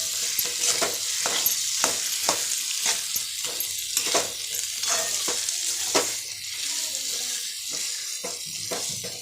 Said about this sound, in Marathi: आता चांगलं मिक्स करून घेऊ.